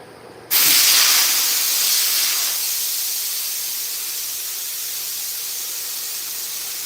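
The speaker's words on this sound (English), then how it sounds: "Let me crack the pressure box real quick." Pressure pot cracked open, releasing a sudden loud rush of air that settles into a steady, slowly fading hiss lasting several seconds.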